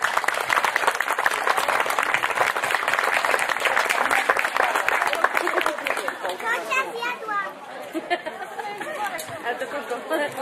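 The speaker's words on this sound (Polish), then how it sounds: "Wielkie brawa dla nich" Crowd at an outdoor village festival in Kochcice applauding a youth band, dense clapping that fades into lively chatter with children's voices over about ten seconds.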